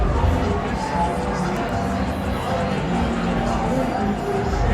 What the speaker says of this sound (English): The crowd is all around, it's really filling in.